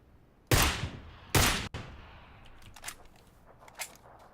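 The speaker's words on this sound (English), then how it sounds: "I see the guy shooting at me" Gunfire in PlayerUnknown's Battlegrounds: two loud sharp shots with a tail, then a string of fainter, more distant cracks scattered across the rest of the moment.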